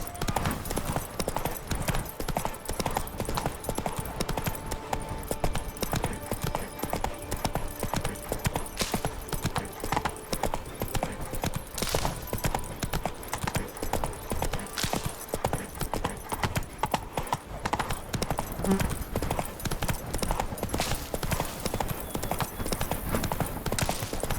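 Roach the horse trots in The Witcher 3, her hooves clip-clopping in a steady, continuous rhythm over game ambience.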